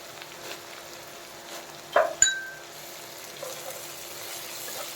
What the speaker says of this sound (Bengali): ভেজে নেব ভালো করে